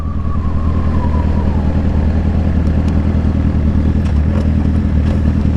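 A motorcycle engine runs close by, a loud, constant throbbing idle with a faintly falling whine, unbroken and without speech.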